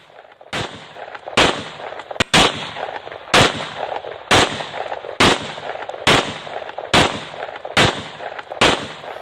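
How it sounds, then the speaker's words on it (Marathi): A volley of pistol shots fired into the air one after another, about ten sharp, loud cracks at a steady pace, each followed by a brief echoing tail. "फटाके फोडल्यासारखे 30 राऊंड त्यानं फायर केलेले आहे।"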